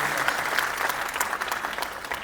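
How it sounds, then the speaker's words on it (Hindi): Steady applause from a crowd, dense and even throughout, with no pauses or voices standing out. "जोरदार तालियों से एक बार स्वागत करें।"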